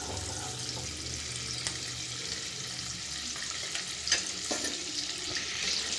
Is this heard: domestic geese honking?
no